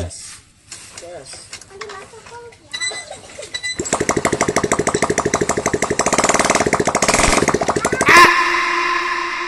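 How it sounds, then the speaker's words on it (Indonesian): A motorcycle engine kick-started by hand, a few scraping attempts before it catches and settles into a rapid, steady mechanical chatter close up, then cuts off abruptly. "Walaupun bisa juga mesin dinyalakan seperti yang dilakukan bapak ini."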